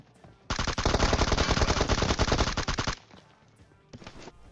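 Sustained automatic gunfire in PUBG Mobile, a loud, dense burst of rapid shots lasting over two seconds, then a pause and a second shorter burst near the end.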